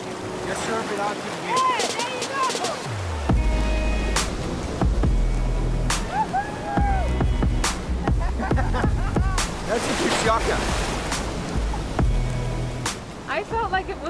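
Ocean surf during a surf-therapy session rolls and washes around the listener, with splashing and wind buffeting the microphone and a voice speaking intermittently over the waves.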